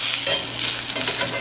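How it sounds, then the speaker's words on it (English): Food ends deep-frying in hot oil, a loud close continuous sizzle and crackle with a dense hissing texture, steady throughout with no talk. "I'm basically just frying the ends"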